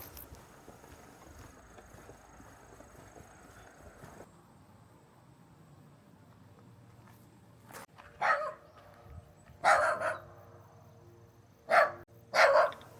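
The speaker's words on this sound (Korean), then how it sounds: "강아지 한 마리가 격하게 맞아주는데 방금 전까지 짖던 강아지 맞나요?" A dog on a village path barks in four loud, separate bursts toward the end, after a stretch of quiet background.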